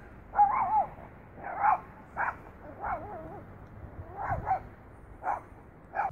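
A dog out in the countryside barks in about eight short, separate yaps spread over several seconds, some breaking into brief whines. The sound is moderately distant and fairly quiet over a soft background hum.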